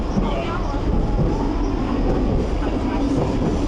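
A Hong Kong city tram riding through the streets, a steady, loud rumble and rattle of the carriage running continuously throughout, with some talk mixed into the noise.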